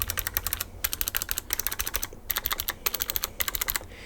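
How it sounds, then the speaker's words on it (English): Keys on a Razer Tartarus V2 gaming keypad pressed in quick bursts of clicky taps, close and fairly loud, with brief pauses between runs of presses and no talking. "this 7 key sounds and feels a little different from all the other keys."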